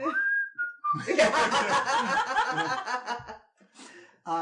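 A rising whistled note, then a burst of chuckling and snickering laughter that fades, with a brief return of sound at the end.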